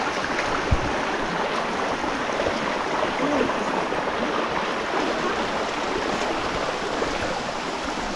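A river being waded across, its water giving off a steady, even rushing flow that runs without a break and stays moderately loud.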